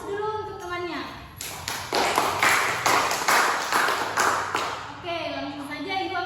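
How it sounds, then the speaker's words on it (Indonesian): A classroom of students claps for their classmates, a burst of clustered hand claps lasting a few seconds between a teacher's spoken remarks. "Beri aplaus dulu untuk temannya"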